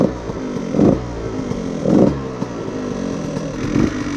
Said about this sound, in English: Give it a little throttle.